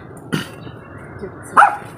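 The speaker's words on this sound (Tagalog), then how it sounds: "nag-shoutout na rin si Kati, yung aso namin na maliit" A small dog barks twice, one sharp bark early and a louder one near the end, close by over a faint background hiss, with no talking.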